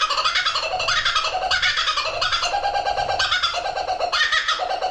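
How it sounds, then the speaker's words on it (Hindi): Laughing kookaburra call, a loud, dense cackling chorus that rises and falls in repeated waves of raucous, hooting laughter, continuous and close, with no voices. "नेक्स्ट लाफिंग कूकाबुरा, इसकी आवाज तो ऐसी है मानो कोई चुड़ैल हंस रही है।"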